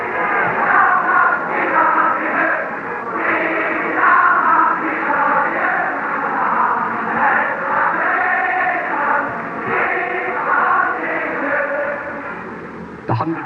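A 126,000-strong Celtic football crowd roars and chants in fine voice, a dense rolling wall of massed voices rising and falling in waves, with a thin, boxy quality.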